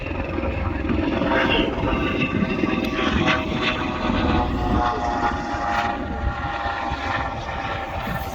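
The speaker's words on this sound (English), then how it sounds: "Non-stop helicopter movement, still making tours." Tour helicopter flying over an erupting volcano at Litli-Hrútur summit in Iceland, a steady loud rotor and engine drone holding throughout with faint wind noise.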